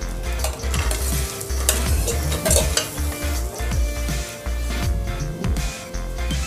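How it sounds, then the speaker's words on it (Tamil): Chopped onions sauté in butter in a pan for vegetable soup, a steady loud sizzle broken by repeated scrapes and stirring clinks of a utensil against the pan, with no talking. "வெங்காயம் மட்டும் லைட்டாக வதங்கினா போதும்."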